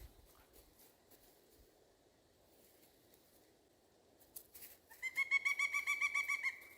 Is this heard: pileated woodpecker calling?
yes